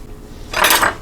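Two spoons clink together at a kitchen table during a home meal of ribs, a brief bright metallic rattle lasting under half a second, close and fairly loud after quiet.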